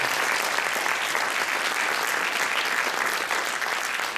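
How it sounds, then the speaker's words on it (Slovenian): An audience at a solo and duet dance competition applauds steadily, a dense, even wash of many hands clapping at once that holds at a constant level without a break. "En aplavz."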